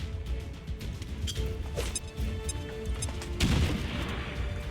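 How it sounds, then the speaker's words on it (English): A thrown grenade bursts in the video game XCOM 2: a loud, brief explosion over game background sounds and scattered gunfire-like cracks. "Throwing grenade."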